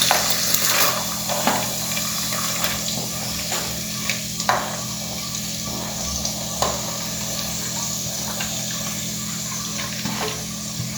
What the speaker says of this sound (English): Here I have pan with 2 tablespoons of oil which is nice and hot. Now we'll add the onions.